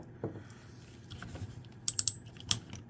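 Ratchet joints on a King Arts Black Getter figure clicking as they are moved, a few quiet scattered clicks followed by a quick burst of sharper ratcheting snaps, close up.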